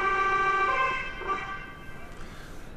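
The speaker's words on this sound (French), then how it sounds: "la sirène," Swedish police car siren sounding a sustained wailing tone up close, loud at first and then dropping away.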